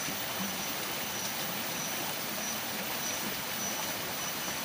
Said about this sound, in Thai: ให้ฟังเสียงน้ำกันนะครับ